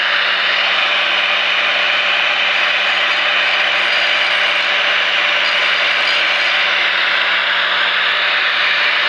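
A Drill Master angle grinder sharpens the edge of a Schrade hatchet, giving a steady, loud high-pitched grinding whine with a constant motor hum underneath, running unbroken and close without any talk.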